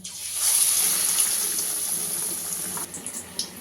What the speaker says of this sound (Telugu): మనం రెడీ చేసుకున్న పీసెస్ ఇలా మొత్తం అంతా డిప్ చేయాలి. ఇలా ఆయిల్లో వేసేసుకుందాం.